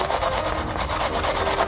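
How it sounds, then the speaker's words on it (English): Rhythmic rasping strokes of a food shredded on a Korean grater, steady and close, repeating back and forth with no talk. "This is Korean grater, or you can use cheese grater."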